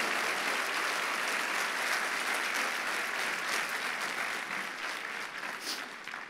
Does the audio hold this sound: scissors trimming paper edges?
no